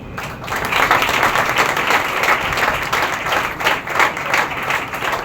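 Dense, loud applause from a church congregation at a Sunday service welcoming the pastor, a continuous roar of many hands clapping close by, sustained evenly throughout.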